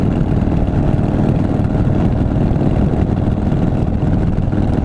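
A Harley-Davidson Softail with a 98-inch big bore engine, ported heads and a 510 cam runs steadily in break-in, giving a loud, continuous low rumble with no pauses throughout.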